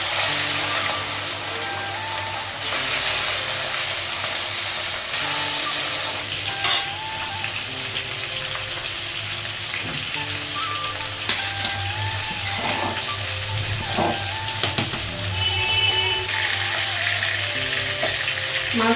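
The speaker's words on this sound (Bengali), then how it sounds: "এখন হচ্ছে মাছটা ভাজবো, কড়াইটা গরম হয়ে গেছে" Fish dusted with turmeric fries in a hot wok, giving a continuous close sizzle and crackle, with occasional clinks and stirring sounds and no voices.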